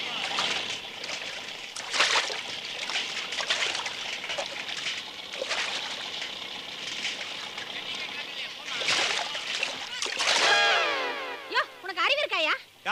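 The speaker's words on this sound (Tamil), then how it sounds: "ஏன் என் மேல தண்ணி ஊத்துன?" Water splashes and sloshes as it is poured over a person in a comedy scene, several bursts of splashing amid ongoing excited talk and shouting.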